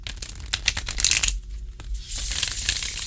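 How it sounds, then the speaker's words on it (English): A chunky tarot deck being cut-shuffled by hand, a quick run of close papery riffles and slaps, a short lull, then a softer continuous rustle of cards. "So what I'm going to do is cut shuffle."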